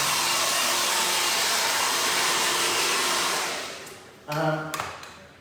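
Hair dryer blowing loose clippings out of a man's short haircut in a salon, a loud steady rushing roar for about four seconds that cuts off, followed by brief voice-like sounds and small clatter.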